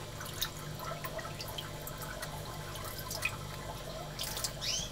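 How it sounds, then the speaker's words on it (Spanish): Water is changed in a betta fish tank, with quiet, steady trickling and scattered drips close by, followed near the end by a brief louder splash. "Aquí estoy haciéndole el cambio de agua a la ocelata."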